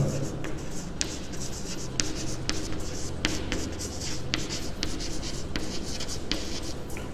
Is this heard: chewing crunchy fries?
no